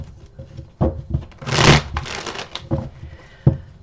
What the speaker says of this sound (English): Let's give these a quick little shuffle.